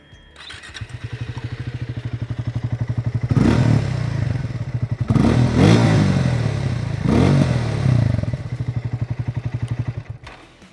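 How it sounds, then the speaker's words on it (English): A Triumph Speed T4 motorcycle with a bassy, burbly exhaust note, heard up close and loud as the single engine idles with a steady throb, then revs hard three times before settling back to idle. "the exhaust note on the Speed T4 has more bass and has a burbly character to it"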